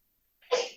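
A single short, sharp sneeze bursts out close by after a brief intake of breath, in an otherwise silent classroom-style recording.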